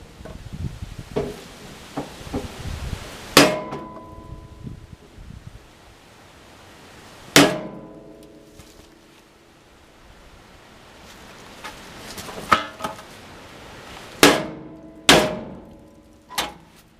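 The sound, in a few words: hammering metal with a bigger hammer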